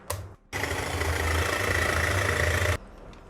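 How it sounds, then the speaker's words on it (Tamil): An electric beater whips fresh cream in a bowl set over ice, a brief start then a steady loud mechanical whir for about two seconds before switching off. "இந்த ஐஸ் மேலேயே இதை வச்சு தான் நான் இப்போது இதை பீட் பண்ண போகிறேன்."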